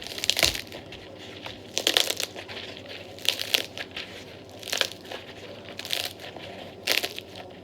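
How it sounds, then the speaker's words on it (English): Dried luffa shells are crushed by hand, giving repeated crackling crunches in squeezes about a second apart, close and fairly loud, with no talking. "Basically, you're just breaking that shell."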